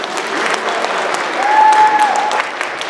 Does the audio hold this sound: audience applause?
yes